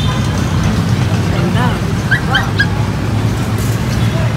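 Dogs, including small breeds such as Shih Tzus and Pomeranians, yip, whimper and bark in cages at the Arranque pet market in Recto, Manila, amid a busy crowded background hum.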